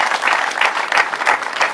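Guests at a wedding celebration clap in a close, steady burst of applause lasting about two seconds, with rhythmic pulses of massed clapping and no talk over it.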